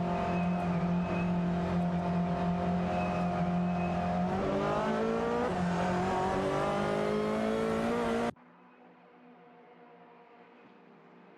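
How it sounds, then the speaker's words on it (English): Race car engines in an AI racing video game, a loud, steady high-pitched whine of several cars whose pitch climbs as they accelerate, then cutting abruptly to a much quieter, muffled engine drone. "Racing car dashing away."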